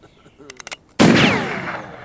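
A single loud gunshot cracks close by and rings out with a long echoing tail, following a few faint scattered sounds.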